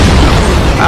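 A single heavy fuel rod cannon blast booms in a Halo 4 Big Team Slayer match on the Exile map, a loud, dense, roaring burst filling the whole short moment with no pause.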